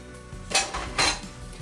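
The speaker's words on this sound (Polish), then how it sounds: "Do rondelka dajemy odrobinę oliwy albo oleju i wrzucamy, ja mam już rozmrożone 400 g szpinaku w liściach." Thawed spinach leaves, 400 g of them, go into a saucepan with a little oil, making two short, close clattering bursts of pan and utensil noise about half a second apart.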